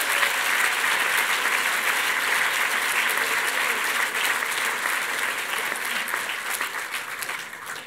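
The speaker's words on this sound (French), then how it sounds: "On peut l'applaudir, mesdames et messieurs." An audience at a film festival gala in a hall bursts into sustained applause, a dense, even patter of many hands clapping close and loud for several seconds before easing slightly.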